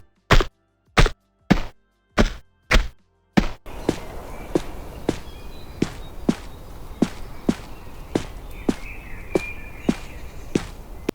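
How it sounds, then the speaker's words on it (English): Footsteps from Tomb Raider I-III Remastered: six crisp, isolated steps at an even pace, then a longer run of regular thudding footfalls over a continuous ambient game background. "This update also has improved footstep sounds for Tomb Raiders 1 and 2."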